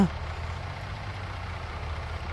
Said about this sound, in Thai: เร่งเครื่องกับไม่เร่งเครื่องนี่ความเร็วเท่ากัน